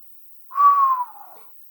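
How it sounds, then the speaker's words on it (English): One long, slow whistle, steady in pitch and gently falling as it fades, alone in silence. "He licks his lips and lets out a long, slow whistle."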